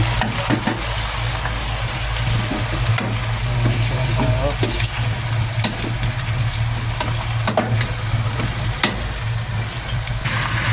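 Ingredients for balbacua, a stew of beef feet, sauté in a pan with a steady, close sizzle broken by repeated scraping stirs, over a low constant hum.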